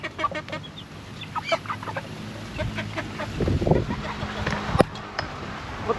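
Chickens clucking close by, with one hen that appears lame among them, scattered short clucks and calls, while people talk in Filipino alongside.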